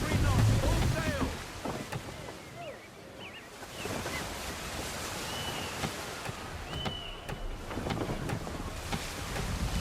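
Wooden sailing ship under full sail in the video game Assassin's Creed 3, with steady wind and rushing water against the hull, creaks and rigging noises, and game music or effects layered over a constant, loud wash.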